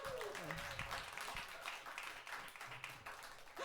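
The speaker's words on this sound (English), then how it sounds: "give her a round of applause" Applause from a comedy club audience, a fairly faint, dense clapping heard at a distance with a voice briefly talking over it near the start.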